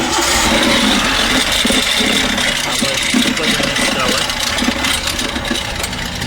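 Maruti Suzuki Eeco van with about 124,000 km on it and a timing belt kit problem, engine idling close by. A loud, steady mechanical drone with a faint rattle runs throughout, and muffled voices can be heard beneath it.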